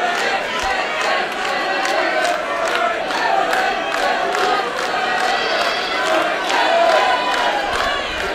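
A wrestling crowd cheers loudly and steadily for David Starr in his match against Jordan Devlin, a dense roar of voices with rhythmic clapping or chanting pulses running through it.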